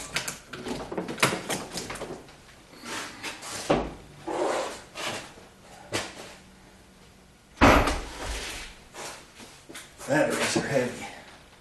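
A battery is lifted out of its tray in a Jeep Wrangler engine bay, giving irregular thumps, knocks and scraping clunks, with a heavier bump midway and a person talking between the noises.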